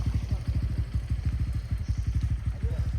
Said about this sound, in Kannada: ಸೊ ಇಲ್ಲಿ ಲೈನಪ್ ಎಲ್ಲ ಬೈಕ್ ಇದೆ.